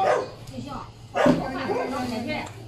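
A small puppy yips and whimpers in short high cries, close by and fairly loud, while people talk over it in a home setting.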